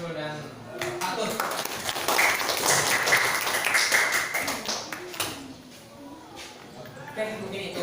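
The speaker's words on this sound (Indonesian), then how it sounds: "Tepuk tangan buat Nasrul dan Atus." Classroom applause for students: scattered clapping from a group of pupils, fairly close, with voices talking over it throughout.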